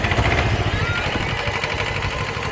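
A Kubota tractor's engine runs with a steady, loud rumble close by, a rough continuous drone with no pauses.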